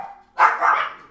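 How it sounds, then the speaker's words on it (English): A dog gives one short bark, close and fairly loud, in a room where people are playing a co-op board game, with a faint background hum before it. "No barking."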